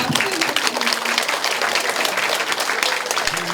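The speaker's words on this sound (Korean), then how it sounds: "박수 부탁드립니다." Applause at the opening ceremony of a candidate's election campaign office: a packed room of people clapping loudly and continuously, close and dense from start to finish.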